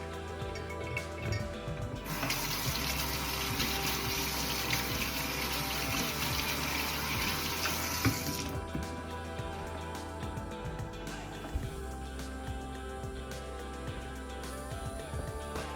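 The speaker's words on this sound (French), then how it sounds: "Parce que je manipule d'autres aliments, je vais maintenant laver mes mains" Tap water gushes into a sink while hands are washed during food preparation, a loud steady stream for several seconds that then cuts off, leaving faint drips and handling noises.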